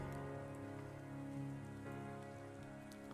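Soft, steady rain in the Stardew Valley Expanded video game, heard faintly and continuously beneath a layer of tonal background music.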